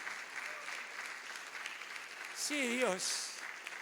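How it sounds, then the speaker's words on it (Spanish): Church congregation applauding during a Spanish-language sermon, a steady wash of clapping that swells briefly near the end while voices call out over it. "Dale un aplauso al Espíritu Santo, por favor"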